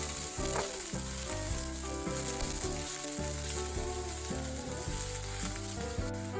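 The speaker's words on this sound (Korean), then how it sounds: "팬이 뜨겁게 달궈지면 파와 양파를 넣고 볶아줍니다." Green onion and onion frying in a hot pan give a steady, loud sizzle throughout, with faint clinks and scraping of stirring underneath and no talking.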